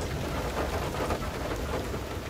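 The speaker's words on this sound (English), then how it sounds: "Look at the hail, it's going freaking wild." A fierce hailstorm in the video game FAR: Lone Sails roars as a dense, continuous wash of pelting impacts, loud and steady throughout, with no talking.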